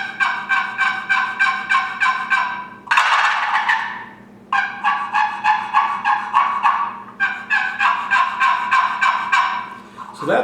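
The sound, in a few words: wooden box call imitating hen turkey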